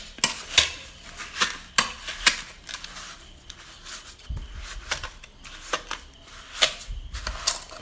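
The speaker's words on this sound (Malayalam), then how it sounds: "ഇനി ഇതൊരു ഒരു തവ ഉപയോഗിച്ചിട്ട് നന്നായിട്ട് ഉടച്ച് കൊടുക്കുക." A ladle clacks and scrapes against a vessel while bananas and flattened rice (aval) are mashed by hand, giving irregular close knocks and scrapes in uneven bursts with short pauses between.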